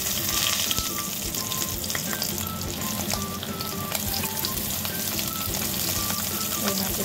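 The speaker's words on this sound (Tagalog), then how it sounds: "I-fry po natin ang ating galunggong." Galunggong, round scad fish, frying in oil, with a loud, continuous crackling sizzle from start to finish.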